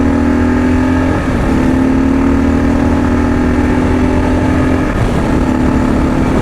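A Kawasaki KLR 650 adventure motorcycle engine pulls loud and close under hard throttle, a steady single-cylinder drone rising in pitch with two brief dips around gear changes.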